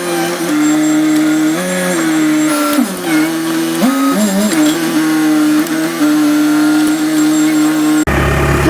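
A forklift unloading pallets from a shipping container, its engine droning loud and steady with shifting revs and brief dips, a mechanical whine over it, then an abrupt change near the end.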